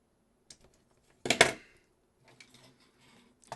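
Jumper wire pins are pulled off an 8-channel relay board wired to a Raspberry Pi 4: a few faint small clicks, then one sharper plastic snap and rattle, followed by scattered light ticks, close and quiet with no talking.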